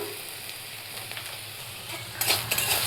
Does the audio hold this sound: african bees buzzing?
no